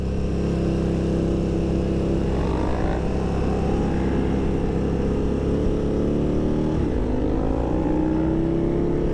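A motorcycle engine rumbles deep and steady while riding on back roads, a loud continuous growl with gentle rises and falls in pitch as the bike speeds up and slows, heard alone without voices.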